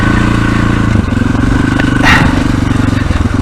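A trail motorcycle in fourth gear runs steadily through muddy sections of a clean woodland trail, its engine a loud, close, even drone with a brief clatter and scrape of mud partway through.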